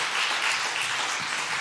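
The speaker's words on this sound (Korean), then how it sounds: "격려의 박수 한 번만 더 해주시길 바랍니다." A church congregation gives a short burst of encouraging applause during a Sunday afternoon service, a dense, even wash of clapping at moderate level with no speech over it.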